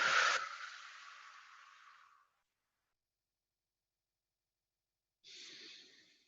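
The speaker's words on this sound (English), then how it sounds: "Deep breath." A deep breath drawn in and slowly let out, close and soft, followed after a pause by the start of another breath.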